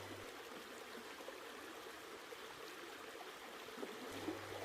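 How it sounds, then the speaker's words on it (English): River water flowing where the Ringarooma and Cascade rivers meet near Derby, a faint, steady rushing wash heard from a distance, unbroken throughout. "We now look southeast towards where the Ringarooma and Cascade rivers meet."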